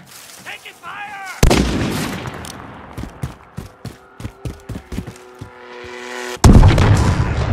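Gunfire in Call of Duty Modern Warfare, with a loud boom followed by a rhythmic series of sharp single shots and a heavy closing blast, while a voice speaks briefly near the start.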